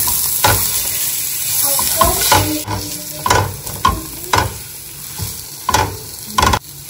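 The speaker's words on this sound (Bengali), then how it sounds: "পেঁয়াজটা হালকা একটু ভাজা হয়েছে, তখন আমি এটা নাড়িয়ে চাড়িয়ে এর মধ্যে আমি টমেটো গুলো দিয়ে দেবো।" Onions frying in a pan are stirred and tomatoes are added, giving a steady close sizzle punctuated by repeated sharp spatula scrapes and knocks against the pan.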